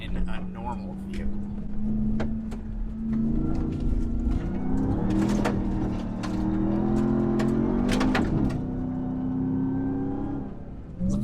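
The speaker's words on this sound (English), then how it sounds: "Didn't quite get it sideways, but gave it some gas." A 2021 Ram TRX pickup with a 702-horsepower engine revving and accelerating off-road, a loud sustained engine drone rising in pitch with bumps and rattles, and someone talking over it.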